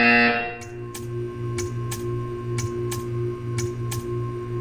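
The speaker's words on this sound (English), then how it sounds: "You will hear a buzzer." A tutorial buzzer in the Portal 2 video game sounds as a run of about eight short, evenly spaced electronic pulses over a steady low hum, fairly close and clear, with no voices.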